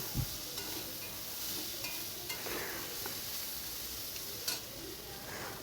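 Food sizzles steadily in a pan over a village kitchen fire, with soft stirring scrapes and occasional clicks under a continuous hiss, no talk.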